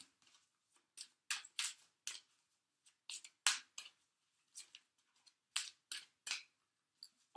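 Tarot cards are shuffled by hand in a series of crisp, papery riffles and slaps, irregular bursts with short gaps between them, close and fairly quiet with no talk.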